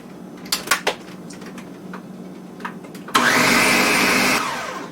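Kitchen blender whirs loudly for about a second and a half as it blends frozen blueberries with water, starting abruptly after a few clinks and knocks, then dropping slightly in level toward the end.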